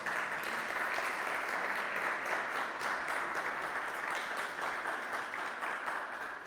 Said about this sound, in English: I think we can applaud.